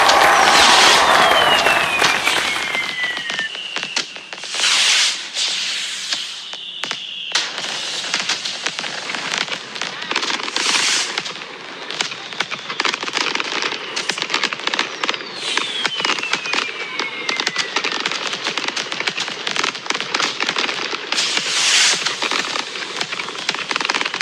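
Fireworks in the video game Grounded's New Year 2024 show crackle and burst repeatedly over a steady hiss, with whistling rockets rising and popping throughout, loud and continuous without a break.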